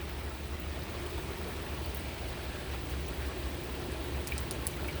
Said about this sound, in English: Oh, let it rain. We need this.